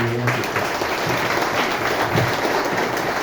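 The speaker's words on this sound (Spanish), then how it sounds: "un aplauso para ustedes que estuvieron aquí" Steady audience applause at a church debate between a priest and a Oneness apologist, dense and sustained throughout, with a brief voice at the very start.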